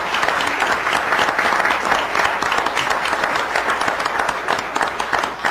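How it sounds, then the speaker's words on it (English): A school board meeting audience gives a long round of applause for Mr. Blomquist, many hands clapping in a dense, steady wash that holds evenly and starts to thin near the end. "I think a huge round of applause for him"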